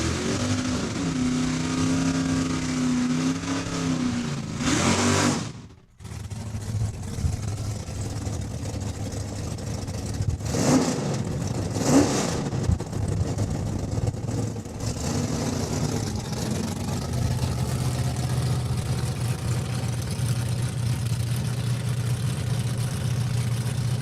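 Bad Influence Challenger drag car at Saskatchewan International Raceway making a single pass, engine revving loudly and then dropping out briefly, followed by a sustained roaring run that stays loud to the end.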